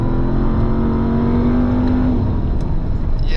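A 2024 RAM 1500 TRX Final Edition revs hard while accelerating on a narrow road. The engine note climbs steadily and close, then drops off at a gear change, loud and alone with no talking.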